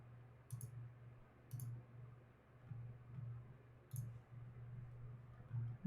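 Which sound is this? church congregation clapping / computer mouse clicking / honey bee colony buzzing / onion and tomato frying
computer mouse clicking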